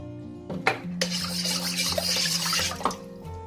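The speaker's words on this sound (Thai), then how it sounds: "ให้เพื่อนใส่น้ำลงไปเลยค่ะ" Water is poured into a pot of chicken feet, a splashing, gurgling pour that starts after a couple of clinks and runs for about two seconds before tapering off with another metallic knock.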